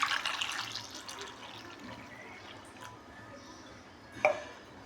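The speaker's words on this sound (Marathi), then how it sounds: "आता आपण त्याच्यात पाणी घालून घेऊया" Tap water runs onto fifteen washed lemons in a bowl, a steady close splashing rush that is strongest at the start, with a sharp clink near the end.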